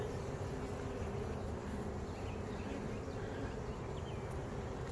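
Honey bees on a beehive frame give a faint, steady, low buzzing hum that stays even throughout with no talk.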